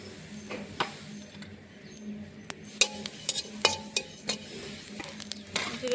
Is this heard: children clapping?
no